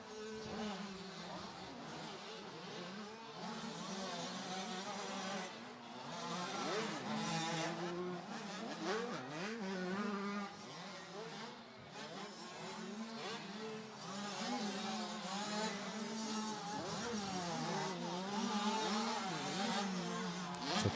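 Supercross dirt bikes, including a KTM, race around a stadium track in Winchester. High-pitched two-wheel engines rev and wail continuously, rising and falling in overlapping bursts as several bikes pass at mid distance.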